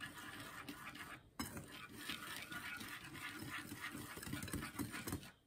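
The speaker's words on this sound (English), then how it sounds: "you're just going to whisk this in and make sure it is an even color" A whisk scrapes and clinks rapidly against a bowl, mixing sugar and cinnamon for Korean twisted doughnuts, a steady close rattle with a brief pause partway through.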